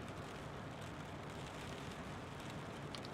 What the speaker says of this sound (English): And it's raining as well.